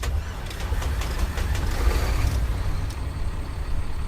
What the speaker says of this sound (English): let's start her up, shall we?